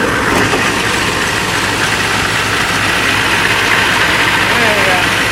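A tow truck engine idles nearby in a steady, loud, unbroken low rumble with faint vibration throughout.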